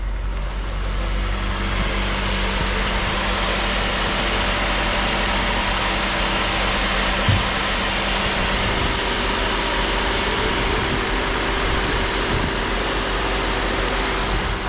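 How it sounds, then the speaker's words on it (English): An Acura TSX engine idles steadily just after being started, a constant low hum and drone recorded close up outdoors with no talk. "we just started the TSX that the engine is going to come from."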